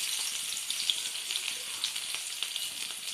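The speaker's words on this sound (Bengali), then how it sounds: "প্রথম হচ্ছে আমি দিচ্ছি আমাদের সেই থেতো করা রসুনটা, ফার্স্ট রসুন থেতোটা দিচ্ছি" Crushed garlic sizzling in hot oil in a kadai, a dense close hiss with small crackling pops throughout, no voices.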